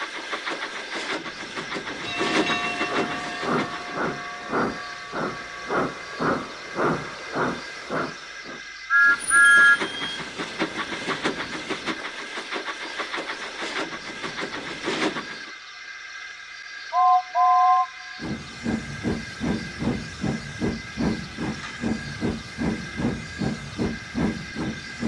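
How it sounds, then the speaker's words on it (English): Steam locomotives chuff rhythmically as they leave a railway yard, with a steady hiss of steam under the beats. Short whistle toots sound twice, and one chugging run briefly stops before another resumes. "Soon the engines began to leave the yard to get a good night's rest."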